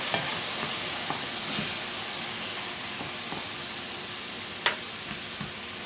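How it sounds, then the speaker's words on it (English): Graham crackers browning beside peaches warming in a pan make a steady, even sizzle with faint scraping and stirring clicks and one sharper tap near the end. "So while our graham crackers are browning, we're just going to go ahead and add our peaches to the other side."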